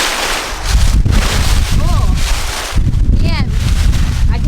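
Wind blowing hard outdoors around a vintage 1957 Liberty mobile home, loud rumbling gusts buffeting close to the microphone with a brief lull, joined by faint chirping bird calls.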